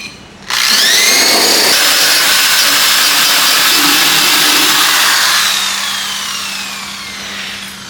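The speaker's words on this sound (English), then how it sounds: "I'm gonna take the wire brush and go over it" A wire brush scrubs hard over a fresh flux core weld, a loud continuous abrasive rasp starting abruptly and tapering slightly toward the end.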